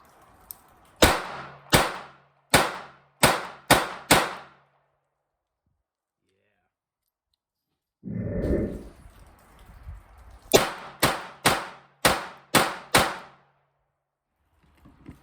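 A Smith & Wesson Model 34-1 .22 kit gun revolver fires at a range, sharp close shots in two strings of about five to six each, separated by a quiet gap and a brief rustle.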